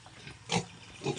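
A piglet in a pen grunts once at close range, followed by a softer second grunt a moment later, over a quiet background.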